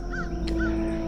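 Crows cawing: two separate harsh caws a moment apart, heard over a steady low hum.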